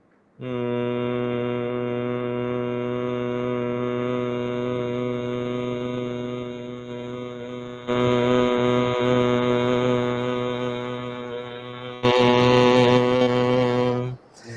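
A person performs bhramari yoga breathing, a deep, steady nasal hum that imitates a buzzing honeybee. Three long sustained hums follow one another, each lasting several seconds, close to the microphone and with no talking.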